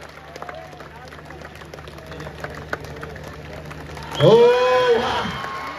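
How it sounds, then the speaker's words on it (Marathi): Crowd at an Alibag dahi handi practice camp, where a Govinda troupe builds a six-tier human pyramid, bursts into loud cheering and applause partway through, following quieter murmuring with talk mixed in. "आपण पाहतोय टाळ्यांचा आवाज जोरदार या ठिकाणी येऊ द्या"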